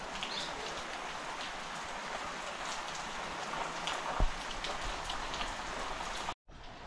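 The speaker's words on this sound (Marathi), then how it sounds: "आता काय पाऊस जाम पडतो आहे" Heavy monsoon rain pours steadily on a village, a dense continuous hiss close by with faint bird coos in the background, one brief thump near the end, and no talking.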